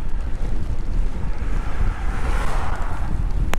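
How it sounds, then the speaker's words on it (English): Strong wind buffets the microphone on a countryside bike ride over the hills of the Deerness Valley, a loud, constant rumbling roar with no talk. "But the wind's picked up"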